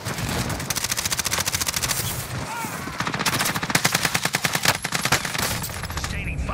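Loud machine gun fire in a video game, fast rattling bursts repeating with brief breaks between volleys, close and dominant.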